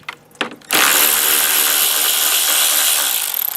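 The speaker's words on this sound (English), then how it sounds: "Okay, 10 mil on the power ratchet." A power ratchet spins off 10 mm bolts on the fan assembly of a 1998 Toyota Camry during radiator replacement: a few short taps, then a loud continuous whirring drone close by for about three seconds.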